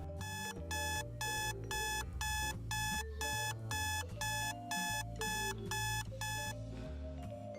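An alarm clock rings in a rapid, regular electronic beeping pattern, about a dozen loud bursts in steady rhythm, before cutting off near the end.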